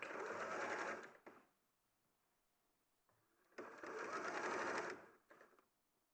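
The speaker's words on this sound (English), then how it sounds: "I'm just sewing down the other side now." A domestic sewing machine stitches down the side of a stuffed fabric piece in two loud, steady whirring bursts, each about a second or longer, separated by a quiet pause, close up and with no talk.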